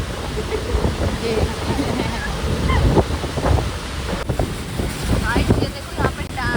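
Rushing water at a dam blends with gusting wind buffeting the microphone, a steady broadband roar with brief louder surges throughout.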